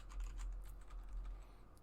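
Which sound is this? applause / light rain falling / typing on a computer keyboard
typing on a computer keyboard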